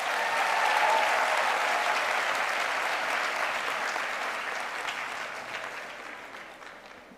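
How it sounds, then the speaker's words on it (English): Audience applause for the choir at an autumn graduation ceremony in Gqeberha, a dense, sustained round of clapping from a large crowd that fills the hall and slowly fades toward the end. "Let's give our wonderful choir another round of applause."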